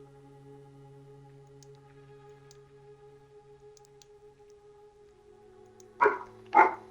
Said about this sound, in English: That would be my loud ass dog